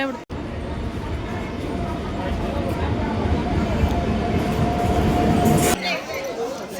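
A train rumbles along steadily with a continuous low roar and a faint whine, with voices faintly audible, before the noise drops off near the end.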